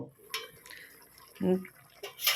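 Pieces of taro go into a karai of heated water, giving faint clinks and soft splashy knocks of utensil and pot, with a louder thud midway and more clatter at the end.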